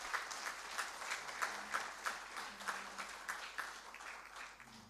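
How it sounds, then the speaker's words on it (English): Audience applause at the inauguration of a manufacturing expo in Pune, a crowd clapping steadily with faint rhythmic peaks, fairly quiet and distant, continuing evenly without speech. "a huge thanks and the roundest possible applause for Swain Saab"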